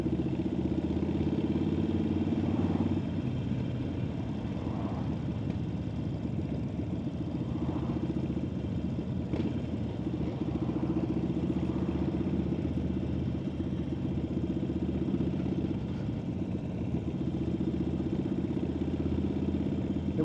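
Motorcycles idle and rumble together at a memorial ride, a steady low engine drone with a constant throb and faint clatter, sustained for the whole stretch without speech.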